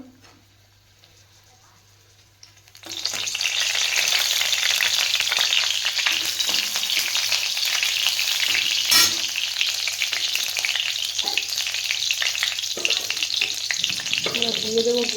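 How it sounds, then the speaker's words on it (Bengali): Dry red chillies and whole cumin hit hot oil in a kadai after a quiet start, bursting into a loud, steady, close sizzle with occasional stirring scrapes that lasts to the end. "কড়াই দিয়ে দেবো শুকনো লঙ্কা"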